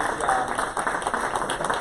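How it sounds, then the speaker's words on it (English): An audience at a 2019 panel for the Dawn to Dusk to Dawn running race applauds the race directors with dense, steady clapping while a voice speaks briefly over it. "I think you all ought to give them a big round of applause"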